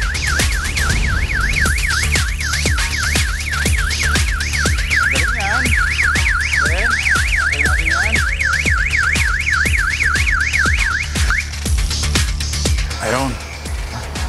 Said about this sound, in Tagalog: pagka natanggal na yung fuse, makikita natin, mamamatay yung alarm